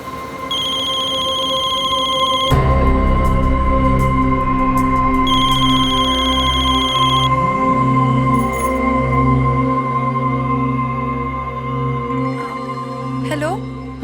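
A telephone rings in repeated electronic bursts over a steady background hum, loud and close, with a voice heard briefly.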